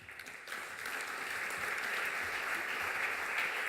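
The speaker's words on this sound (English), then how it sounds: "Big round of applause, please, for our gentlemen" A conference audience in Lucerne applauds panel guests with steady, moderately distant clapping that swells quickly and holds even.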